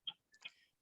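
Clock ticking, two or three faint, sharp ticks heard close in a quiet room with no voices over them.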